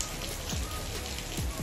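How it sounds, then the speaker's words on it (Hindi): Heavy monsoon rain pours down outside a shop, a dense, steady hiss of drops hitting surfaces, fairly faint and continuous with a few heavier splats. "बढ़िया बारिश आ रही है"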